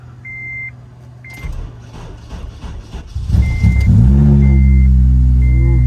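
A crashed, totaled Acura RSX Type S with no coolant cranks and fires up, its engine settling into a loud, high idle, while intermittent electronic warning beeps chime over the running motor.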